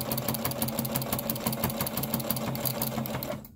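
Sewing machine running a straight stitch through fabric for reusable paper towels, a fast, steady mechanical chatter up close that stops abruptly at the end.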